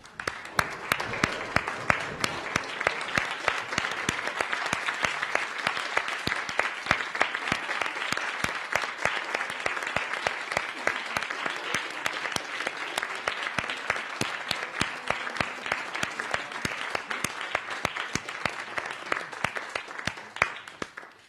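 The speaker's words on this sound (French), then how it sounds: "que nous puissions terminer ce conseil en les applaudissant" Sustained applause from an audience at a borough council meeting, dense steady clapping from many hands filling the room throughout, with no speech over it.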